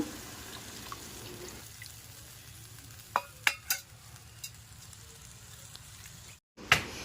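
Turmeric and salt are stirred into spices frying in a pan, a faint soft sizzle broken by a few sharp scraping clinks of the spoon, with a brief gap near the end.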